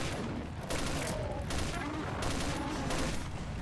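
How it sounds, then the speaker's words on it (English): Assault rifle fire in a shooter video game, set to 3-round burst, coming as several rapid clustered volleys of sharp shots in quick succession, fairly close and loud, with bursts separated by brief gaps. "Use the assault rifle. Try this. 3-round burst, perhaps?"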